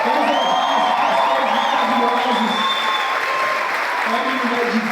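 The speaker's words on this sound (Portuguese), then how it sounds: "Será que vocês podem aplaudir o pastor Márcio, pastora Naine?" A large church conference crowd applauds its pastors, with loud continuous clapping mixed with cheers, whoops and excited voices filling the hall.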